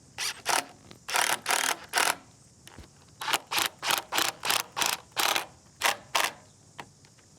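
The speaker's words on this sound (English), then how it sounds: "So now just put on all the screws in the hinge and we're just about there" A power driver drives screws into a hinge on a wooden gate in short, loud whirring bursts, over a dozen in quick succession with brief pauses between, and no talking.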